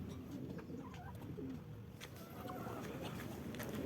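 A racing pigeon arriving at its loft after a flight from Talavera, Nueva Ecija, soft cooing calls in short bursts close by over steady outdoor ambience.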